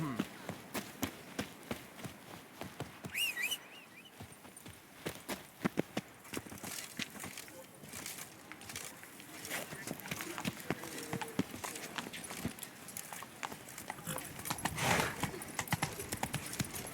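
Horse hooves in The Witcher 3 beat in a fast, rhythmic clip-clop gallop across the whole stretch, with a brief whinny and other game sounds mixed in at low level.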